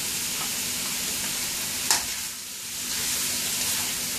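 Shrimp, sliced fish cake and noodles stir-fried for Singapore-style mee goreng sizzle steadily in a hot pan, with a sharp clank of the utensil near the two-second mark and a constant frying hiss throughout, no voices.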